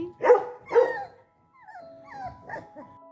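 Young puppies give two sharp, close barks followed by a short pause, then a run of thin, high whimpers and yips.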